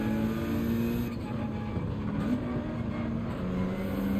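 A Gran Turismo 7 race car at Lago Maggiore in a Nations Cup round hums steadily up close, its engine pitch holding level then dipping slightly near the end, loud and constant.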